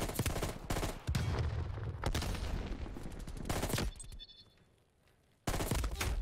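Rapid bursts of M16 rifle fire in the shooter game Black Ops Cold War, loud and close, in several strings separated by a brief quiet gap near the end.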